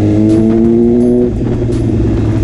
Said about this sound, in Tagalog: Sana lang narinig nyo mga lods, ang lakas ng tambucho.